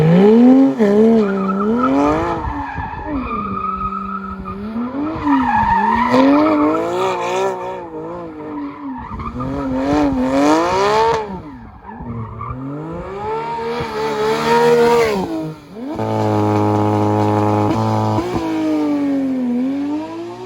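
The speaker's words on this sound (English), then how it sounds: "Oh my god, it chirps the tires from first to second gear. It's nuts on a PDK." A Porsche 911 GT3 (992) with PDK gearbox accelerates hard and loud, its engine climbing and dropping through repeated upshifts, with brief tire chirps at the shift and a steady high revving drone near the end.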